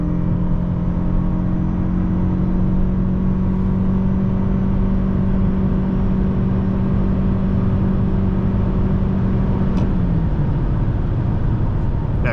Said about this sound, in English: let's do the first 0 to 60 test